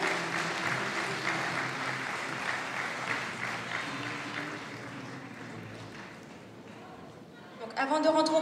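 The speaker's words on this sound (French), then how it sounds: "Je vous demande un tonnerre d'applaudissements pour Léana" Audience applause at a Miss Excellence Picardie beauty pageant gala, a sustained clapping crowd that gradually thins out before a voice starts speaking over it at the end.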